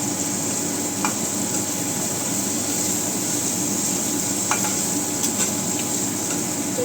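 Capsicum stir-fries in a pan for paneer capsicum masala, giving a steady close sizzle with a few light clinks of a spatula against the pan.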